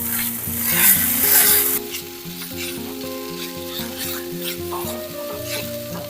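Rice being stirred and mixed in a hot pan on high flame for a lunch box, with steady scraping and a continuous sizzle that is loudest early on. Faint background music plays underneath.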